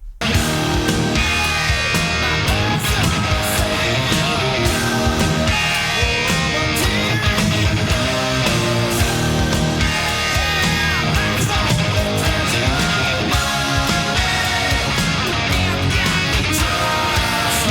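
Second chorus played on guitar, a dense, loud, continuous full-band-like wash of distorted chords and rhythm with no pauses or talk.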